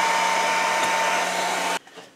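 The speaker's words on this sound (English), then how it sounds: "Turn on our super duper hair dryer." A hair dryer heating tubing during the repair of a vintage Tamiya Blackfoot radio-controlled truck blows with a steady, loud whirring roar and a constant hum, then cuts off abruptly, leaving faint room noise.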